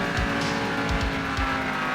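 A race car roars along in the Asphalt 9 video game, its engine a steady loud drone under repeated low thumps and faint tire squeals.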